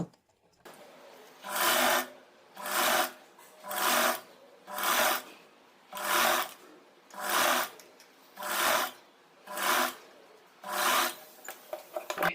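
A sewing machine stitches a blouse shoulder strip in short, evenly spaced bursts, about nine rhythmic runs of rapid needle clatter separated by brief silences, close and clear with no voices.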